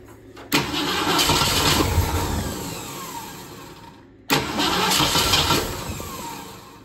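A 1966 Ford Mustang GT, parked for ten years, is cranked twice. Each attempt opens with a sharp starter engagement and a loud churning crank that sputters toward catching. The attempts are separated by a brief silence, and no one speaks.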